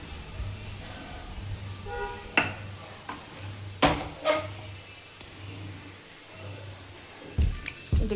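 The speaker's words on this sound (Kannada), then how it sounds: "ಅನ್ನಕ್ಕೆ ಮಿಕ್ಸ್ ಮಾಡ್ಕೊಳ್ಳೋಣ" Tempered rice in a steel pot being stirred with a spoon to mix in the seasoning, giving a few sharp scraping clinks against the pot over a low steady hum, close and fairly quiet.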